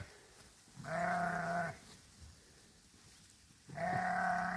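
Sheep bleat twice in a clover pasture, ewes and lambs among the growth: two sustained, fairly loud calls a few seconds apart, with quiet outdoor ambience between.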